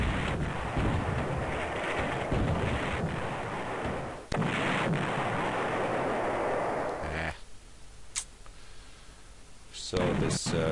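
A battleship shells an elite bridging engineer unit in Panzer General, a sustained, rumbling barrage of heavy gunfire that cuts off abruptly and leaves a quieter stretch with a few sharp reports near the end.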